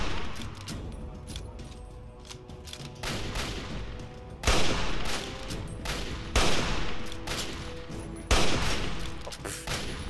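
Bursts of gunfire in Fallout 3 on hardcore difficulty: rapid rattling shots with several loud, sharp blasts standing out, continuous and close with no talking.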